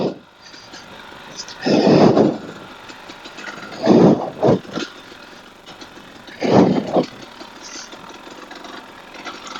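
A KTM 300 TPI two-stroke dirt bike on a forest single track, its engine rising in short revving bursts over a quieter idle-like drone, moderately close, with no talk.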